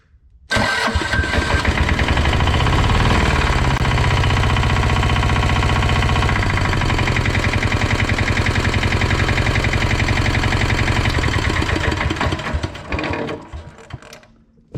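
Engine of a hire machine cranking and catching after a fuel pump repair, then running loud and steady at close range for about twelve seconds before cutting off, with no talking.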